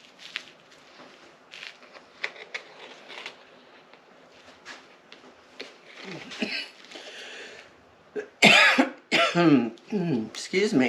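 A person coughs a few times, loud and close, in short bursts near the end, following quieter handling noises while pouring paint for a four-color dome pour.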